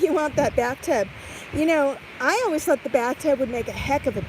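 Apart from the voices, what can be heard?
No distinct noise like a dog, phone or traffic.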